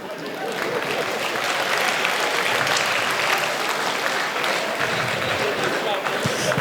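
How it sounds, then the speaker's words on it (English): Audience at a stand-up comedy show in Nigeria breaking into applause, a full, even roar of clapping that swells and holds steady throughout. "now clap for yourself"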